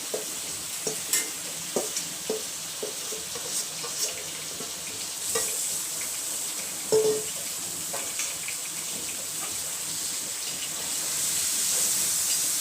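Marinated potatoes and onions frying in a pot for aloo dum biryani, a steady soft sizzle with intermittent stirring clinks and scrapes, moderately close and without talk.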